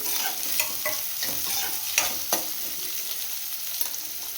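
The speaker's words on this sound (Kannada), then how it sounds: "ಈರುಳ್ಳಿ ಸೇರಿಸ್ಕೊತಾ ಇದ್ದೀನಿ. ನೀಟಾಗಿ ಫ್ರೈ ಆಗಲಿ." Onions sizzle in a pan beside green chillies, a spatula stirring them with soft, scattered scrapes and taps over a constant frying hiss; close but fairly quiet, with no one speaking.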